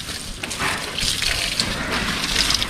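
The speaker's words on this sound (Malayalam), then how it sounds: "ഇതാ വെള്ളം ലീക്കായെന്നുണ്ടോ, അവിടെ ഒടിഞ്ഞു കിടന്നുണ്ടോ" Water gushes from a broken pipe in a garden, a moderately loud continuous splashing rush that holds steady for a few seconds.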